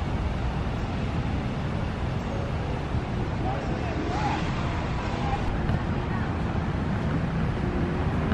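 Steady wind gusts rush across a Central Florida outdoor farmers market by Lake Eola as a storm rolls in, a continuous broadband roar buffeting the microphone throughout with no clear voices.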